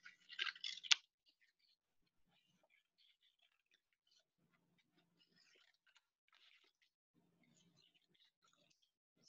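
Scissors snip through junk modelling material made from recycled items, with a short, close burst of cutting at the start followed by near silence and a few faint small clicks.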